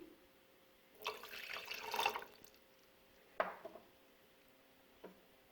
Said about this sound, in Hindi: इसके बाद इसमें जाएगा हाफ कप पानी।